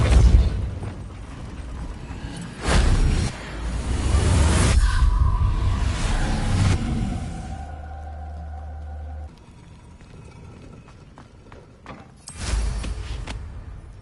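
A Repulso spell cast in the Hogwarts Legacy video game, a heavy booming burst with a whooshing rush, followed by a sustained low rumble and a second sharp blast near the end, among other magical effects.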